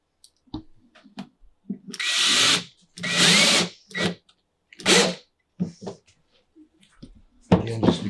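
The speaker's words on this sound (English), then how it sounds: "If you're not careful with the screw gun, you could definitely shoot the screw right through this PVC." Screw gun driving screws into the PVC panels of a Vivarium Electronics reptile rack, heard as several short, loud bursts of whirring drive separated by pauses, with light handling knocks between them.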